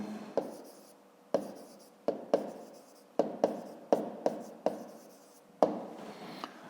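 Pen writing an answer in a notebook during a 5th-grade maths exercise, heard as quiet scratchy strokes with a series of sharp taps as the pen lifts and lands, close up and alone.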